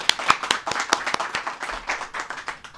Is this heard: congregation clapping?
yes